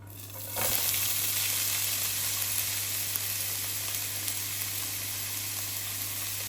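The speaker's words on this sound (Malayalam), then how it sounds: "ഒരു പാത്രം ചൂടാകുമ്പോൾ അതിലോട്ട് ഒരു ടേബിൾ സ്പൂൺ ഓയിൽ ഒഴിച്ച് കൊടുക്കുന്നുണ്ട് ഇതിലേക്ക് ഉള്ളിയും പച്ചമുളകും ചേർത്ത് കൊടുക്കാം" Onions and green chillies drop into hot oil in a pan and set off a sudden, loud sizzle that settles into a steady, close frying hiss for several seconds, with no talk over it.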